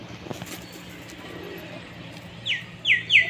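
A female Jack Madras pigeon gives a few soft coos near the end, each one brief and close, over a quiet, faintly noisy room with no talking.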